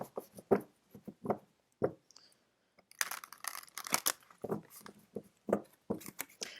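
Tarot cards being shuffled by hand, a run of crisp papery riffles and soft slaps close up, in bursts with short pauses, no talking.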